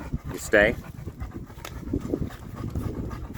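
Dog panting in short rhythmic breaths, close by, mixed with a brief whimper-like squeal and a person speaking a couple of words over it.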